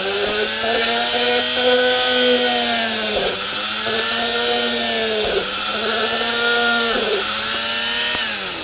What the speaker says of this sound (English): Basically I'm going all the way around drilling holes.